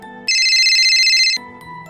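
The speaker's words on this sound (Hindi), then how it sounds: "फोन फिर बज उठा।" A bright electronic ringtone sounds for about a second, loud and close, between softer musical tones before and after.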